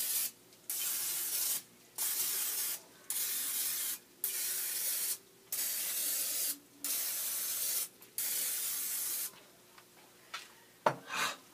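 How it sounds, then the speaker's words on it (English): Pam olive oil aerosol cooking spray hisses in a series of short, even bursts, about eight in a row, followed by a few clicks and clatters close by. "So again, Pam olive oil spray."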